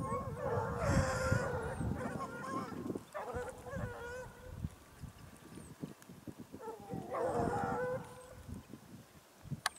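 A pack of Ariégeois scent hounds bays in bursts while hunting hare in the Drôme Provençale countryside. Their overlapping cries come from a middle distance, swell twice and then fade between the bursts.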